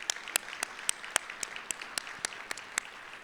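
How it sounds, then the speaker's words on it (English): Audience applause at an economic forecast event, sparse individual claps at a moderate distance forming a light, steady patter with a few sharper claps standing out. "If you'll give them a round of applause for being our Leadership Circle investors."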